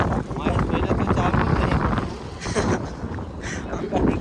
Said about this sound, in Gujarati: બહુ પવન વાય છે, ઠંડો ઠંડો